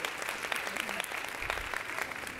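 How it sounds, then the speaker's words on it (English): Audience at a dentistry seminar applauds, a steady patter of many hands clapping at moderate volume throughout, with faint murmuring voices underneath. "Give her a round of applause."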